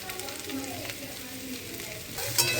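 Potatoes crackle and sizzle steadily in hot oil, a dense close frying hiss with faint voices murmuring underneath.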